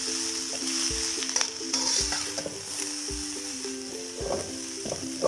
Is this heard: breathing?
no